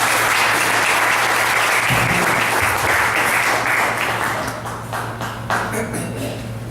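Sustained applause from a seated audience welcoming a speaker to the stage, steady and dense for several seconds before thinning out toward the end.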